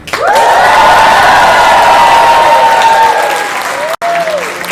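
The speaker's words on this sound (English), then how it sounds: "Cheer if you think Abby should win." A crowd at a university physics department year-end show cheers loudly, with sustained applause, shouts and whoops and a long rising cry above, then a sudden cut and a short second swell.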